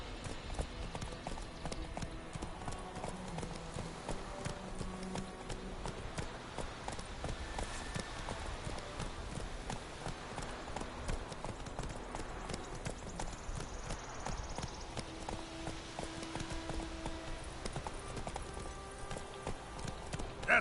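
Horse Roach's hooves clip-clop steadily in the video game Witcher 3, a continuous trotting rhythm at close range running throughout, with music and ambient game sound beneath.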